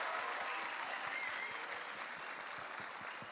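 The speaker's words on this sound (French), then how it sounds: "Alors Kylian, je pense qu'on peut l'applaudir encore plus parce que c'était le premier." An audience at a student mini-enterprise pitch competition applauds in a steady, even clatter of many hands, fairly faint and continuous throughout.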